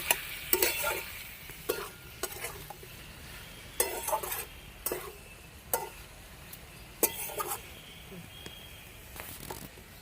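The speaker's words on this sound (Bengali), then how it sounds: "কপি ডাটিটা ছাড়িয়েও রেখেছি এবার দিয়ে দেবো ভালো করে সব সঙ্গে মিশিয়ে নেব" Cauliflower stems stirred and fried in a pan with repeated scraping strokes over a low, steady sizzle, the stirring coming in bursts spaced a second or so apart.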